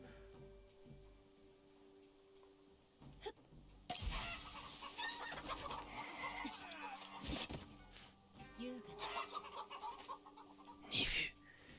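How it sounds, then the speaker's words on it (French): Chickens clucking in the Shadow Tactics video game, several short clucks and squawks amid soft background ambience and steady music-like tones, with occasional louder bursts. "C'est des poules, hein, tu sais."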